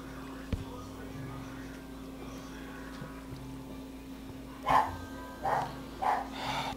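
A dog barks a few times in the background, three or four separate distant woofs near the end, over a steady low hum and faint murmuring voices.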